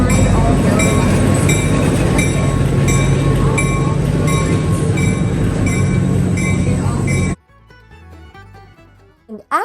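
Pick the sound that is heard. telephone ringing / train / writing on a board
train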